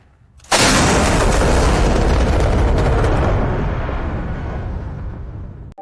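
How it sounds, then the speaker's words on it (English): An AI-generated explosion in the desert hits as one sudden, loud boom. A deep rumbling roar follows and slowly fades over several seconds. "An explosion in the desert."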